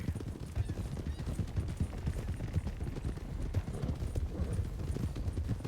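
Horse hooves clip-clop in a roleplay video game, a dense, steady patter of hoofbeats running continuously at even loudness with no pause.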